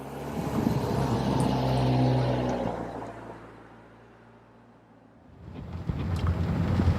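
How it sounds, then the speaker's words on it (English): A 2019 Mitsubishi Eclipse Cross 2.0 driving on wet roads in cold wintry weather, a low road and engine rumble that swells, fades to near quiet midway, then rises again. "So let's get behind the wheel and take it for a drive."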